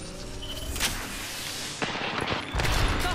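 Gunfire crackles in a chaotic Apex Legends battle, a ragged burst of shots and sharp impacts with several louder cracks near the end, moderately loud over a busy game background.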